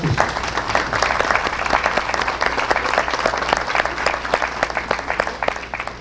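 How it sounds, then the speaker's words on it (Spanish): A crowd claps steadily and warmly throughout, with dense, sustained applause at a consistent level. "un aplauso"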